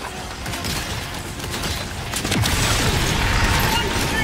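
A grenade explosion in the video game Helldivers 2 lands as a loud, sustained boom with crashing, rumbling debris over several seconds, dense and close, with no talk over it.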